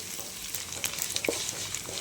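Rice grains frying in hot oil in a pan, a continuous bright, crackling sizzle heard close up with a few scattered pops and stirring ticks.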